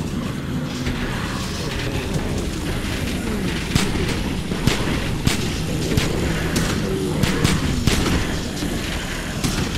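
Gunfire in The Walking Dead video game, rapid shots cracking over a dense, rumbling battle din with steady noise throughout, no clear voices.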